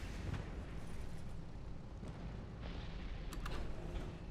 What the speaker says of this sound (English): Then we'll drop some bombs over here as well.